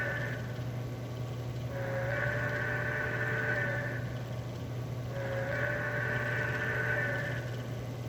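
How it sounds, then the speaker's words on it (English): A steam whistle effect from an American Flyer digital sound unit on a model train sounds twice, each blast lasting about two seconds, over a constant low electrical hum. "That's the steam whistle"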